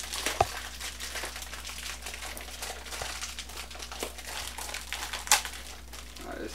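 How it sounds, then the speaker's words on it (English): Plastic packaging of a mystery mini figure being torn open, giving continuous close crinkling and crumpling with a couple of sharper rips. "Okay, see, you just rip the plastic."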